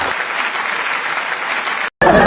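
Steady, fairly loud clapping from a comedy-show audience, continuous for nearly two seconds before a brief cut, then resuming sharply.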